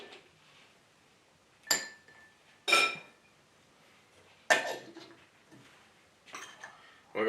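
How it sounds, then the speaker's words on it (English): Ice cubes for a whiskey sour clink and rattle into a glass in a few sharp, separate bursts, close and bright, between stretches of near quiet. "And throw in some ice cubes."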